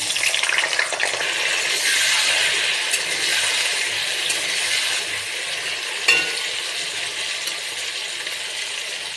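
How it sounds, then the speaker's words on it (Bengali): Raw, unboiled jackfruit pieces frying in hot oil with salt and turmeric, giving a steady broad sizzle throughout, with light stirring scrapes and one sharper clatter partway through, close and without talk. "তেল গরম হয়ে গেছে, এবার এঁচোড়টা দিয়ে দেবো।"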